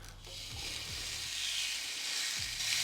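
A steak sizzles steadily on a hot Ninja Foodi grill and griddle, a dense, close hiss that keeps going throughout with a few soft scrapes and shifts underneath.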